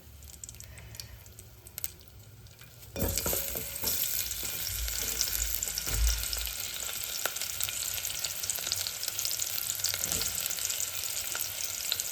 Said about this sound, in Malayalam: ഇതിൽ കുറച്ച് വെളിച്ചെണ്ണ ഒഴിച്ചു കൊടുക്കാം നമുക്ക് കുറച്ച് ഉള്ളി ഒരു ചെറിയ ഉള്ളി കേട്ടോ ഒരുപാടൊന്നും വേണ്ട അത് പൊരിച്ചെടുക്കാം